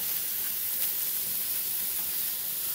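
A burger bun sizzles on a very hot griddle, a steady close hiss of frying with faint crackles and no talking.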